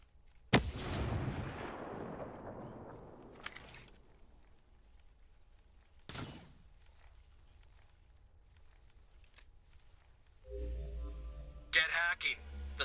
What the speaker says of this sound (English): Throwing a frag.